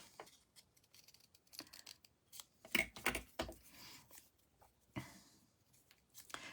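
Scissors snip into a stamped paper card design while making a tri-fold card, giving several brief crisp cuts spaced irregularly and close by, with short pauses between them and no talking.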